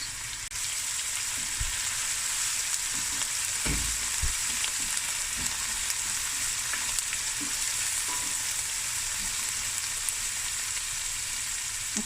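Cloves, star anise and cumin seeds fry in hot oil in a pot, producing a continuous hissing sizzle with soft knocks and stirring clatter, close and steady throughout.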